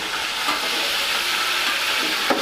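Chicken pieces sizzle steadily in a pan of golden fried onions over high gas, a loud, continuous frying hiss with faint stirring scrapes.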